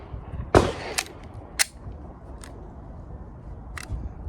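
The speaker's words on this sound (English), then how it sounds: "First shots, Springfield Echelon." A Springfield Armory Echelon pistol fires a handful of sharp shots at the range, one loud crack followed by several quieter, spaced reports over a few seconds.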